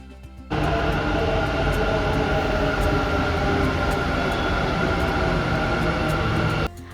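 A metro train at a station makes a loud steady rumble and roar that starts abruptly, holds for about six seconds and cuts off.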